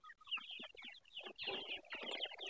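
Wet chickens on a poultry farm cluck in quick overlapping bursts, several birds close by, growing busier and louder toward the end with no talking.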